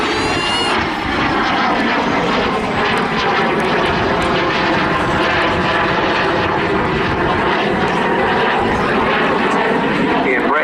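A BAC Strikemaster jet aircraft flies a display at the Southport Airshow 2022, its engine a loud, sustained roar that swells and holds throughout, with a voice audible over the noise.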